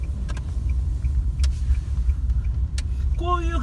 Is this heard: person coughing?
no